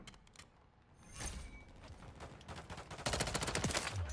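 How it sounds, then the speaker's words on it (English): Rapid automatic gunfire in Modern Warfare 3 multiplayer, with bursts of shots that build in density and loudness over several seconds, fairly close, with no voices. "Oh my gosh, stop shooting."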